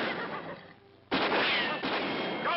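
Gunfire erupts in a western town in an old radio drama, a sudden loud burst of shots and commotion following a quieter moment, with mono broadcast-style sound.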